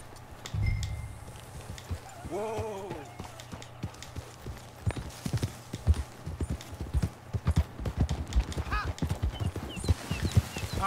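Horse hooves clip-clop steadily in Red Dead Redemption II, a brisk rhythmic trot that grows denser and louder toward the end, with a short whinny early on and game dialogue talking over much of it.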